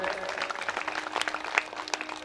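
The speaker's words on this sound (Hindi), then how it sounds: "एक बार इनके लिए जोरदार ताली हो जाए।" Scattered audience clapping for an honoured guest at a religious katha gathering, faint and uneven, with individual claps standing out.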